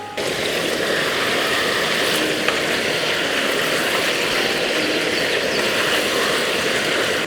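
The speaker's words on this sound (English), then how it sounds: "Now while the chicken's frying in this oil" Steady, dense sizzling and crackling of chicken frying in hot oil outdoors, close and continuous, with a faint low hum underneath.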